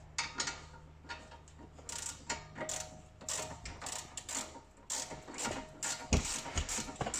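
Ratchet wrench tightening brake bolts on a Mercedes CLA Shooting Brake during a DIY brake change, heard as a run of close, dry mechanical clicks and ticks in irregular bursts over a low steady hum, with no talking.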